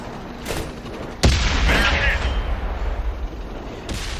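An STB-1 tank cannon fires in a video game, a single loud, sharp boom followed by a rumbling tail, with a fainter report about three seconds later.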